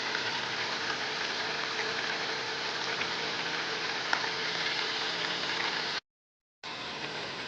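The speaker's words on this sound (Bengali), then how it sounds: "এটাকে আমার প্রথমে কম আঁচে ভাজতে হবে, তারপরে ফ্লেমটাকে বাড়িয়ে দিয়ে ভাজতে হবে।" Chicken tikiya fries in a pan over a flame raised from low heat, giving a steady, even, close sizzle that runs on alone and cuts out briefly near the end.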